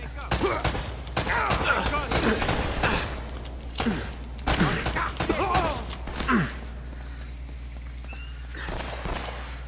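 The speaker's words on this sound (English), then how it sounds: "we seem to be getting shot at" Enemy gunfire in Uncharted: Drake's Fortune rings out as sharp, irregular shots and short bursts over several seconds, then thins to a few scattered shots against a low steady hum.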